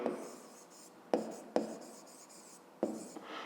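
Pen writing by hand on paper during a fifth-grade math exercise, close and quiet scratchy strokes broken by a few sharp taps, with no voices.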